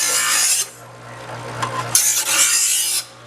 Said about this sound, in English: It's cutting, but not like we want it to, so we're just gonna sharpen it briefly.